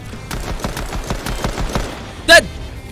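Fortnite pistol fire heard as a rapid string of sharp shots in a steady rhythm, followed by a brief louder ringing pickup-style chime near the end, with a voice faintly underneath.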